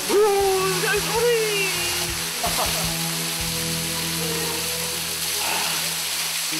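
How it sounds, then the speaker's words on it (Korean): A steady hiss of falling water pours from a roughly 33-metre waterfall on Ulsan's Ganwolsan mountain. A voice speaks briefly at the start, then the rushing continues on its own. "물살 소리."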